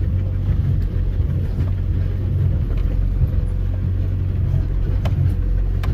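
A 300tdi four-wheel drive on a bumpy bush track, heard from inside the cabin as a steady, continuous low engine and road rumble with faint knocks and rattles throughout.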